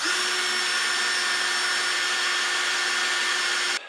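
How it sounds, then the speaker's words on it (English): A power drill whines steadily at high speed for several seconds, close and loud, then cuts off abruptly. "now I just need to drill the hole in the right place"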